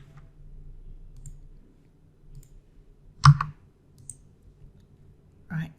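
Computer mouse being right-clicked in a quiet room, a single sharp click standing out over faint low hum, with a couple of softer clicks around it and no talking.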